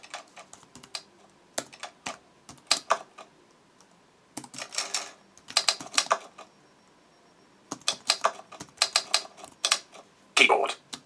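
Typewriter-style key sounds from the Hanx Writer app on an iPad: quick bursts of crisp clacking keystrokes separated by short pauses, close and clear.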